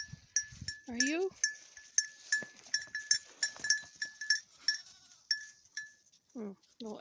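A Nigerian dwarf pygmy cross baby goat bleats a couple of times in wavering cries close by, amid steady chiming and clinking in a farm pen while a person talks quietly.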